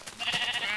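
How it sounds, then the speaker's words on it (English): A single sheep bleats in Minecraft, one short nasal wavering call up close that rises and holds briefly. "Let's get rid of the sheep. Make too much noise."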